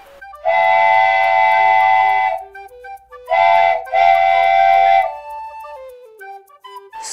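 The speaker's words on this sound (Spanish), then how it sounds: "Train, tren." A loud train whistle sounds in a long blast followed by two shorter ones, with a low rumble of the train beneath.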